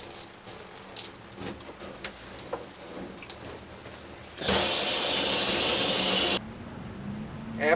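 A household shower runs to purge trapped air from the water lines after a tankless water heater is installed. A loud, steady rushing hiss starts abruptly and lasts about two seconds, then cuts off, following quieter clicks and handling noises.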